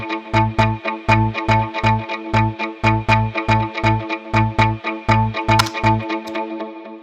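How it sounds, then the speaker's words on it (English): Rhythmic electric guitar with delay and reverb, layered three times for fullness, playing a steady chopped pattern of short repeated notes with echoing tails, alone and clear throughout. "guitar with some delay reverb on it."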